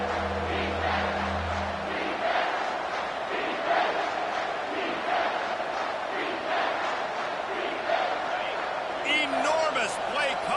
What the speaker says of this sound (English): 3rd down, and this crowd is bringing down the house